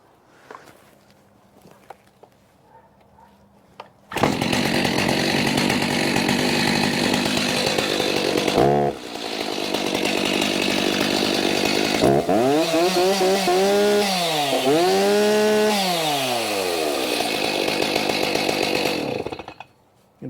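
A chainsaw brought back to working order after repair starts and runs loud and close for about fifteen seconds, idling steadily and then revving up and down in several rising and falling sweeps before cutting off.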